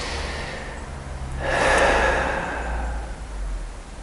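One deep Wim Hof-style breath drawn in close to the microphone, swelling into a strong airy rush midway and then easing off over a faint steady background.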